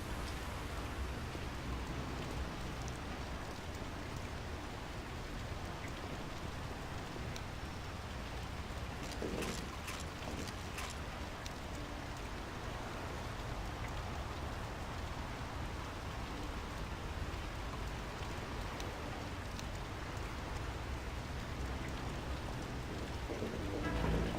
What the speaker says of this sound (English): the rain is bugged due to in-game soundscapes